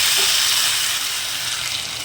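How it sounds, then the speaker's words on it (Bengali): Potatoes frying in hot oil with dried red chillies, bay leaves and whole cardamom in a home kitchen pan, a steady, close, broadband sizzling hiss that holds evenly throughout. "এখানে আলু সব কষাচ্ছি।"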